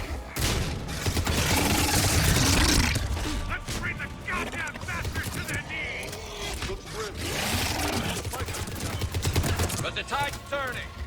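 Rapid bursts of armor-piercing rounds fire in Mass Effect 3, loud and dense with mechanical clatter, separated by short lulls and mixed with voices and game effects.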